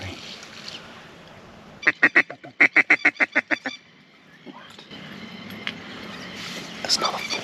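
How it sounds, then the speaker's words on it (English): A burst of loud, rapid mallard quacks in a quick series, followed by quieter outdoor ambience by a stream and faint calls. "Single mallard just landed"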